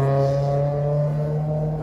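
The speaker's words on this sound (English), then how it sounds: "Big engine." A big car engine idles and revs at close range, a steady low drone holding for a moment before easing off slightly, with no voices.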